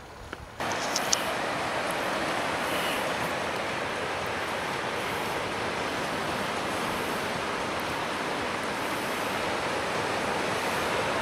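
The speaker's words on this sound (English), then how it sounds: "We're gonna end the evening just listening to the waves." Ocean waves breaking on a beach at night form a steady, full roar of surf that starts abruptly and continues evenly throughout, with no voices.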